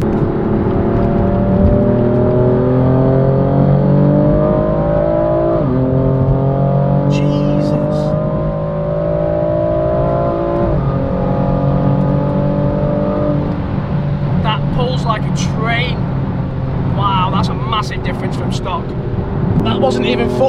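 A BMW M4 accelerates hard at high RPM, its engine note climbing in loud rising sweeps that shift through gears, with speech heard over the noise.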